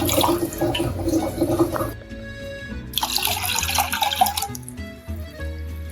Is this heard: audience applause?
no